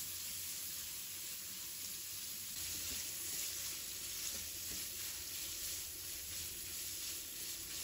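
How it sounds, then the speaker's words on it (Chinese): Pork belly stir-frying over low heat in oil in a wok, making a steady close hiss and sizzle with faint stirring scrapes. It sounds the same throughout, with no voices. "把五花肉放入锅中，小火给它炒香，一定要给它炒出多余的油脂"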